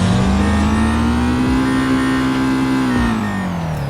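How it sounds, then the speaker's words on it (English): A Subaru boxer engine revs steadily and loudly for several seconds, a strong droning tone that rises slightly and then eases off toward the end. "I believe this is a Subaru Boxster engine."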